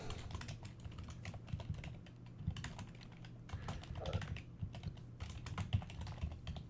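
Fast typing on a computer keyboard, a steady run of close key clicks over a low constant hum, with no voices.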